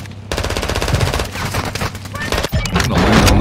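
Rapid video game gunfire in a battle royale Resurgence match, dense bursts of automatic shots rattling close and loud, broken by a brief pause before more firing.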